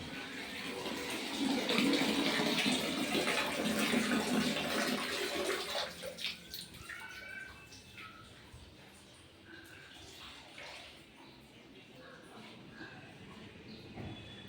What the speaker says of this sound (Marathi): थांबा नळ बंद करू दे